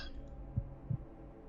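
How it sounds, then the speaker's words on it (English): Two soft, low heartbeat thumps, evenly spaced about a third of a second apart, over a dim droning hum in a horror visual novel game. "That's called a heartbeat?"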